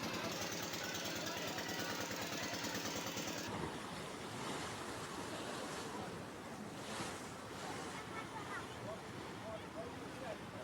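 Fast-flowing floodwater rushes through an underpass in Rajasthan where two machines are trapped. A loud, continuous roar of churning water, with a steady mechanical drone in the first few seconds that then gives way to broader turbulent noise.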